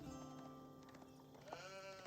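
Sheep bleating in the strategy game Age of Empires 4, clear wavering bleats over a steady game background hum, with a second bleat rising near the end and no talking.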